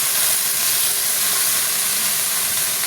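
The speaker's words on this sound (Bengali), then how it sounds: "এদিকে আবার এগুলা ভাজা করতেছি তেলের উপরে" Water spinach frying in hot oil hisses loudly and evenly at close range, a continuous bright sizzle with no talking.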